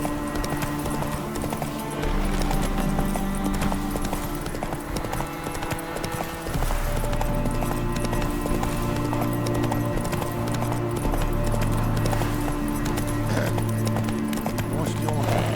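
In The Witcher 3, a horse gallops with steady, rapid clip-clop hoofbeats throughout, heard under loud game music and people talking.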